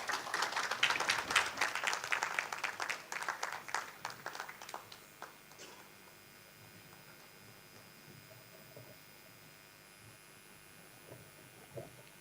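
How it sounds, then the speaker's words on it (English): An audience at an annual general meeting claps for several seconds in a lively burst that gradually thins out and fades into a quiet room hum. "A round of applause for him, please."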